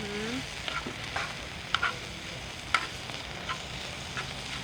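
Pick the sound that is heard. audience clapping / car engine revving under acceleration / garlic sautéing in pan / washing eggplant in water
garlic sautéing in pan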